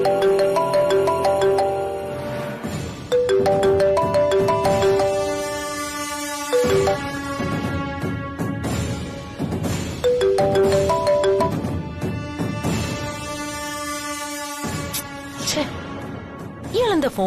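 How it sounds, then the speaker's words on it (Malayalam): A phone ringtone repeats its melodic tune over and over, ringing unanswered at steady volume with no one picking up. "ഇയാളെന്താ ഫോൺ എടുക്കാത്തത്?"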